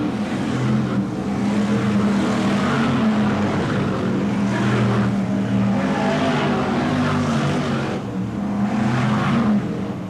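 Loud, continuous roar of BriSCA Formula 1 stock car engines racing at King's Lynn in 1993, with pitch rising and falling as the cars pass through the laps, no voices over it.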